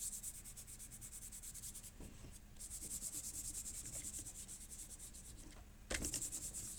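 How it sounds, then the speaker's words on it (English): Glued paper being rubbed by hand onto the lid of a soap box, a steady close scratchy rubbing with brief pauses and a louder burst near the end. "Give it a good rub."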